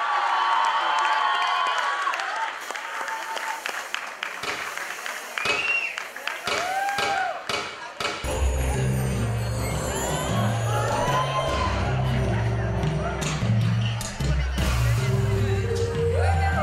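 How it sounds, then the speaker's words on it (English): Audience at a college cultural fest cheers, whoops and claps after a western dance performance, loud crowd noise throughout, with music starting up partway through. "let's have a big round of applause for them"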